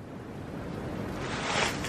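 Strong gusting wind blows outdoors at an abandoned rural house with a collapsing barn on a cold winter day, a steady broadband roar that swells slightly toward the end.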